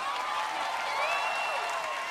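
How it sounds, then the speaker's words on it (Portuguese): A New Year's Eve concert crowd applauds, a faint wash of clapping and cheering heard from a distance, steady across the moment with a thin tonal line drifting through it. "Uma salva de palmas para ela."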